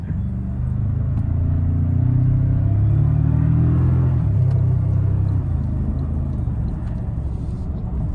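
2024 Toyota Tacoma TRD Sport Hybrid engine pulling under load with a coarse, grainy, diesel-like drone, a loud low rumble whose pitch climbs steadily then settles, heard from inside the cab without talk.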